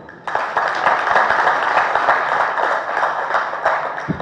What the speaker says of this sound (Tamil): அதுக்கு திருப்பி ஒரு கைத்தட்டுங்க